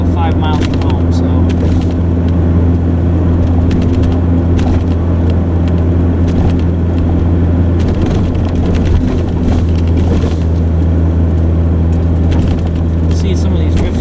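A car pushes through deep snow drifts during a blizzard, its engine roaring in a loud, constant rumble that never lets up, with a person talking over it.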